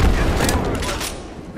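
Gunfire in the video game Apex Legends, a dense burst of shots at the start that fades over under a second and a half, with loud booming low end.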